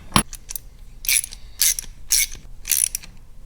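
Tightening fittings on a Wilwood brake proportioning valve for a Dodge Viper: one sharp metallic tick, then four bursts of ratcheting wrench clicks in a steady rhythm, close and fairly loud, with no talking.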